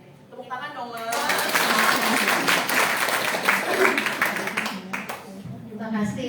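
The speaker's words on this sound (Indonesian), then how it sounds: "Tepuk tangan dong, Ma." An audience at a parenting seminar held at a special-needs school breaks into sustained applause lasting several seconds, with a voice talking before and over the clapping.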